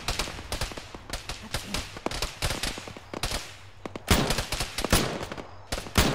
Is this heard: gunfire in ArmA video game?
yes